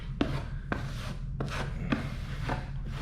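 A drywall knife rakes across a plaster of Paris patch in five distinct scraping strokes, each a short gritty rasp, spaced roughly half a second apart, close and fairly quiet.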